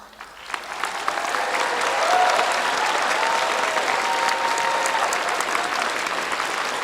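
Graduating students are applauded by an audience at a high school graduation ceremony in Thousand Oaks, a dense sustained wave of clapping that swells within the first second and holds steady, with faint crowd murmur underneath.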